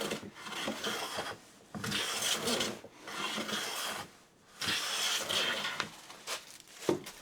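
Lie-Nielsen No 5 hand plane taking shallow passes over rough pine, a series of close, dry rasping strokes with brief gaps between them.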